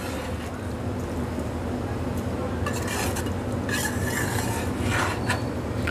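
Urad daal mash being stirred in a cooking pot, soft scraping and sloshing throughout with a few brighter clinks of the spoon against the pot near the end, under a steady kitchen background.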